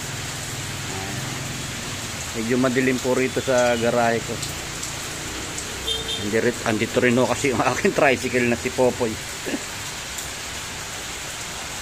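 Steady rain patters in the background while someone talks over it at close range.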